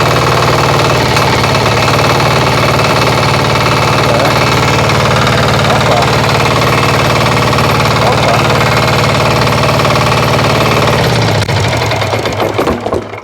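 A walk-behind tractor engine runs loud and steady with a rapid chugging throb, close up, then is shut off near the end and its sound dies away.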